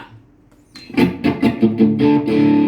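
A heavily distorted Fender American Standard Stratocaster HSS electric guitar plays a few sharp strummed chords, then a sustained ringing chord, loud and close.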